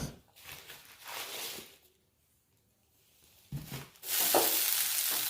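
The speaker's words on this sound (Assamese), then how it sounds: "একফালে মই ভাজি কৰি আছোঁ" Potatoes sizzle and crackle in a hot pan, fading to near quiet for a moment before the frying hiss swells back, louder and steady.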